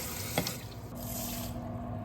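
Tap water runs steadily into a pot in a home kitchen, a continuous close hiss and splash with a small clink near the start.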